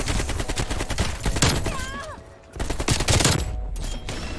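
Death Machine fire in Call of Duty Cold War comes in dense, rapid bursts of loud gunfire with a short gap midway, mixed with game effects and some talk.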